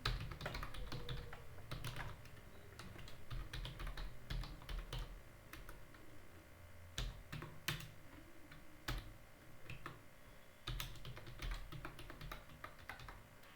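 Steady typing on a computer keyboard while a username and password are entered, dense clicky keystrokes in quick bursts with brief pauses, close and alone over a faint room hum.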